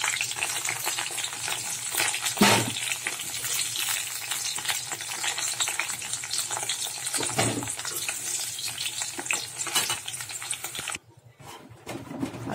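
Potatoes and pointed gourd frying in hot oil for a rohu fish curry, a steady loud sizzle with crackling bursts and occasional stirring clatter, fading near the end.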